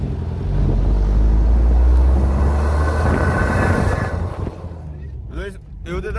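An off-road SUV engine revving in second gear, a loud, deep rumble that swells and holds, then drops away, with brief voices near the end.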